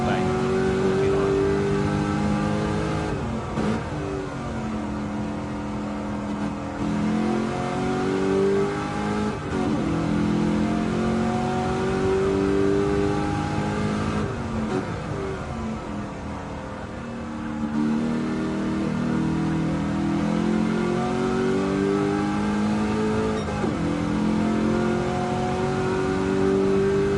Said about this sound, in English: As I'll let you guys listen to the engine of this Ford Mustang 49.